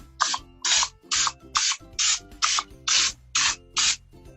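Cooking spray mists oil into cupcake liners for red velvet cupcakes in a series of nine short, evenly spaced hissing bursts, close and fairly loud.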